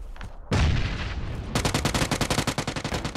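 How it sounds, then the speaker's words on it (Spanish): Video game gunfire: a loud burst starts abruptly, then a rapid, evenly spaced automatic volley hammers on, close and dominant. "Me está disparando, me está disparando"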